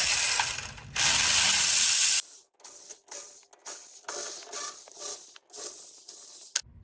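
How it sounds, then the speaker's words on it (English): Ratchet wrench backing out 13 mm bolts on a 1997 Ford F150 4.2L rear differential cover: close, loud bursts of ratchet clicking, first a few long sustained runs, then shorter choppy strokes with brief pauses. "All right, so these bolts are 13 mil. Let's real quick take these off."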